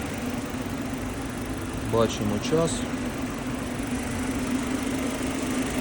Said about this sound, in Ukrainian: нестабільно працював двигун, але зараз вже вирівнявся, тому проходить чистка